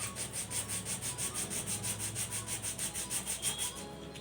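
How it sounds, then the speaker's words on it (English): Sandpaper rubbing a cut plastic bottle cap in quick, even back-and-forth strokes, a close, soft rhythmic scratching repeated steadily about five times per second with no talk. "Rub this with sandpaper."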